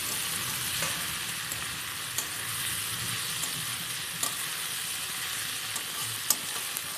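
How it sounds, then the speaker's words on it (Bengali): Steady sizzling of potatoes, onion and chilli frying in a pan, close and even, with a few light clicks of stirring and no talking. "এখন আমি এখানে পেঁয়াজ লঙ্কাটা দিয়ে দেবো এখানে সমস্ত কিছু দিয়ে এখন ভাজা ভাজা করে নেবো"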